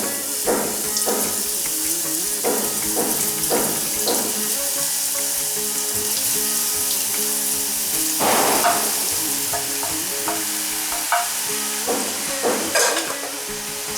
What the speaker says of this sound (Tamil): ஸோ இது நல்லா ஃப்ரை ஆகட்டும்.